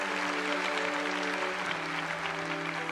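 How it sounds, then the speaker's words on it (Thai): Studio audience applause on a Thai TV singing competition show, a steady wash of clapping over sustained music tones, moderately loud throughout. "ปรบมือกับขิมครับผม"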